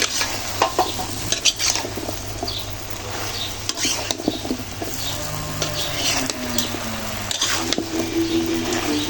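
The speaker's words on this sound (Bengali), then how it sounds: "এখন উলট পালট করে নেড়ে তারপরে ঢেকে দেব" Bottle gourd curry in a pan is turned and stirred, a utensil scraping and clinking against the pan over a steady low sizzle, close and continuous with no talk.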